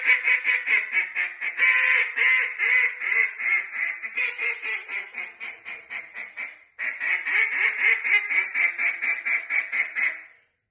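A contest duck call blows a long run of hen quacks, loud at first and then working down softer and a bit slower, with a brief pause before a second steady series of quacks.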